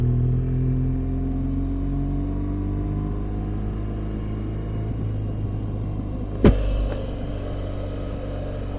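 A BMW R1200 GS motorcycle engine while riding, a steady loud low rumble with rising engine tones and wind, plus one sharp knock partway through.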